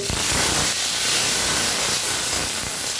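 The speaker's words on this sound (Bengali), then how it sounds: "ওই তেলে আমি ঢেঁড়সটা ভেজে নেব।" Okra frying in hot oil left over from frying potatoes, a loud, steady hiss of sizzling that fills the whole clip without a break, close up and with no voices.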